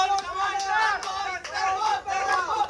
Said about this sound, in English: I hope you guys can hear us with all that noise happening here from the crowd